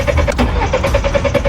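A car that won't start is tried at the ignition, producing a fast, steady run of clicking pulses close by, with no engine ever catching.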